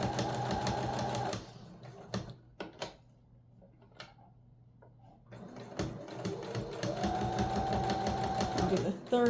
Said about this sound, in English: I'm just going to stitch in a few stitches and then back stitch